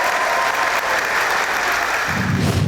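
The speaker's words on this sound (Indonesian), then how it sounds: "jadi kita berikan aplaus untuk ibu guru yang luar biasa ya" A studio audience applauds a teacher on an Indonesian talk show, with steady, dense clapping that fills the room throughout and swells slightly at the end.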